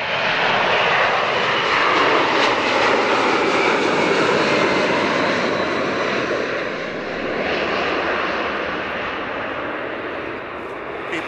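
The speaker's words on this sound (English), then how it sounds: "Another plane." A fixed-wing airplane passes overhead at an airport, its engine roar loud and sustained for the whole stretch, easing slightly toward the end, with no talk over it.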